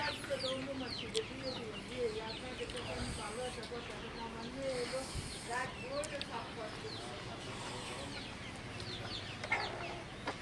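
Broiler chickens on a farm cluck and chatter continuously in a dense, close flock, with overlapping calls throughout and some talk underneath.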